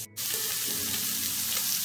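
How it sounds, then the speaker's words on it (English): Precooked octopus sizzles steadily on a hot oiled grill, a dense continuous frying hiss heard close up and alone. "now I'm just going to grill my octopus"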